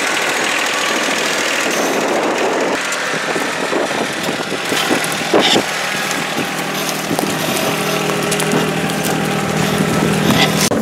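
A tractor engine runs steadily with a rough, knocking idle and rattling vibration, close and loud throughout, with occasional clanks.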